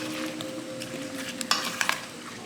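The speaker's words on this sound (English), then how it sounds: "Now we add the red onions, mix it." Cucumber salad being stirred with red onions in a bowl, soft wet mixing and rustling with a few sharp clinks of utensil against the dish near the end, close and quiet.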